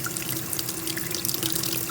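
Running tap water pours steadily into a sink while pork neck bones are rinsed, a continuous splashing stream with small drips and trickles, close and fairly loud.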